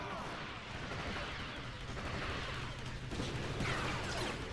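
Distant gunfire and artillery-like booms rumble in a Star Wars Battlefront 2 battle on the Yavin IV ruins map, a dense, muffled layer of shots and blasts, fairly faint throughout.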